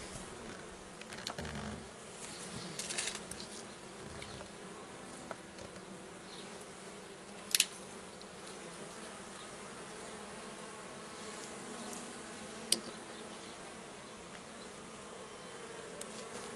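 Honeybees buzz steadily around an open hive as a colony is worked and checked before winter, a dense, even hum with a couple of brief sharp knocks.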